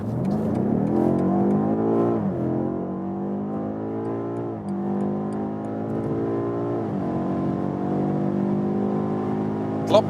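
BMW M8 Competition Gran Coupé accelerating hard from 50 km/h in its aggressive automatic shift mode, heard from inside as a strong engine note rising in pitch through several gears, dropping at each of three quick upshifts.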